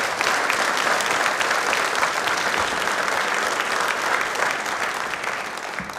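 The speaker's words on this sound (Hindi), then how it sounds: "तालियां मनमीत के लिए जोरदार हो जाएं।" A studio audience at a televised quiz programme applauds loudly and steadily, dense clapping that holds for several seconds before easing off slightly at the end.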